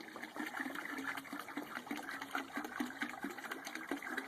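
Water pours steadily into a bucket, a soft continuous splashing and trickling with small irregular surges, faint and alone.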